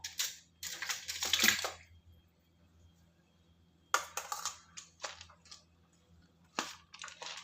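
Cooked rice and curd being stirred and mixed by hand in a bowl for a Rama Navami offering, with wet squelching, scraping bursts in two clusters separated by a quiet pause, close and moderately loud.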